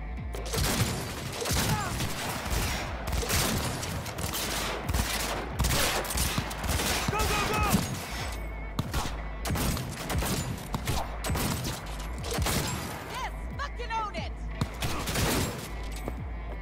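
Gunfire in the video game Cyberpunk 2077 crackles in rapid volleys with sharp repeated bursts and a few heavier booms across the whole stretch, with voices talking in between.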